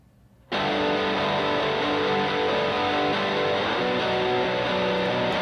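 Two doubled distorted metal rhythm guitars panned hard left and right start abruptly after a short hush, then chug on as a dense, loud, continuous wall of heavy tone.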